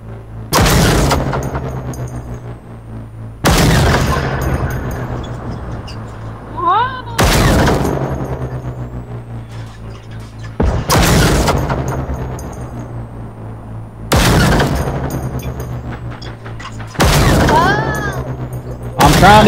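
Heavy gunfire booms out in the Generation Zero video game during a fight against machines, with six loud, reverberant blasts spaced a few seconds apart, each decaying into a long rumbling tail, and faint electronic chirps between them.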